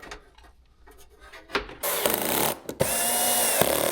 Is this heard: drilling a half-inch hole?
yes